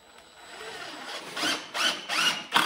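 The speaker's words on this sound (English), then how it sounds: "So we'll go ahead and get our first screws in." A power drill drives screws into 2x4 lumber while a mineral lick feeder for sheep is assembled, with short rising whirs in several separate bursts, close and fairly loud, growing more forceful toward the end.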